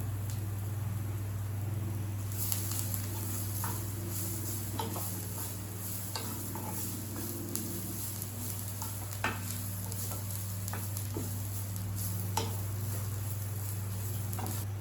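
Onions sautéing golden in a pan for a potato and pork sausage stew give a steady, close sizzle, with scattered clicks and scrapes from stirring throughout and no voices.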